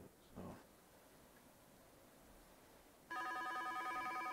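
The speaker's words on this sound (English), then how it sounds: "And my phone is ringing." Telephone ring tone in a video game, a faint electronic ringing that cuts in suddenly near the end after quiet rustling, repeating in short pulses.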